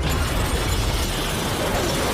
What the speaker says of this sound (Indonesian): Ledakan yang dahsyat